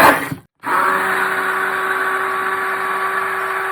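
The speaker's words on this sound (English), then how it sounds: "Use a hand blender just to blend it up." After a brief cut, a hand blender whirs continuously through a chia seed and cherry mixture with a steady, even drone.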